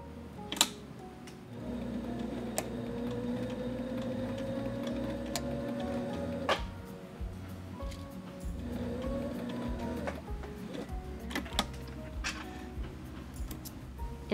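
A sewing machine stitching a rolled hem along fabric edge, running as a steady continuous mechanical hum with faint rhythmic ticking, pausing briefly midway and then resuming at a similar even pace.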